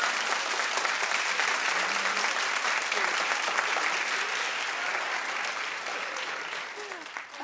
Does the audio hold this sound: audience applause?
yes